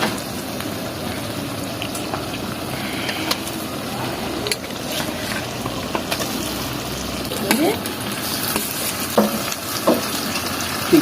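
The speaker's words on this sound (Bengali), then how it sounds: "এবার আমি চিকেনটা ঢেলে দেবো" Chicken tips into a clay pot of browned onions, boiled potatoes and chillies, sizzling and bubbling up close, with scraping stirs and occasional clinks breaking the steady frying over about eleven seconds.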